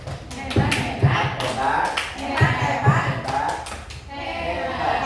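A group at a school teachers' session does a patterned "tepuk hebat" cheer clap. Several loud, uneven bursts of claps and taps come in a rhythm, with voices chattering around them.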